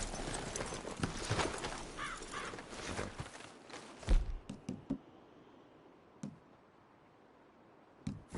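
Horses walking in the Red Dead Redemption 2 video game: clopping hooves and dull knocks at close range, with a breathy snort, easing into sparse, scattered steps and thuds against a quiet background.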